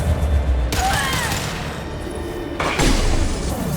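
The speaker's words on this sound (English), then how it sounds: "Firing a high-impact shot." Heavy gunfire from a high-impact shot in Mass Effect 2 comes in two loud booming bursts separated by a quieter stretch, with whining tones and rumbling battle noise underneath.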